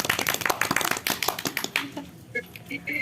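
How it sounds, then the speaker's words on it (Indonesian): A small group of students in a classroom claps in quick irregular bursts at close range, a clattering patter that thins out and gives way to brief voices near the end. "Tepuk tangan dulu dong"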